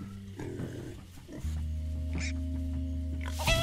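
Low grunting oinks from pigs in Minecraft: Story Mode, layered over a steady droning background hum, with a brief voice near the end.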